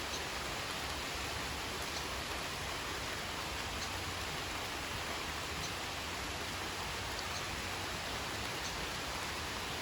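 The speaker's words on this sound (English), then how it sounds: "So that's the sound that you hear, the rain." Rain falls in a spring cottage garden, making a faint, steady, even wash of noise with scattered soft drops and no pauses.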